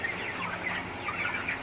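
Broiler chickens on a farm cluck softly, a faint murmur of overlapping calls at a moderate distance with no one talking.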